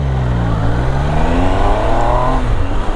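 Triumph Tiger Sport 800 motorcycle with a small silencer revving hard, the engine note climbing in rising sweeps, loud and close throughout.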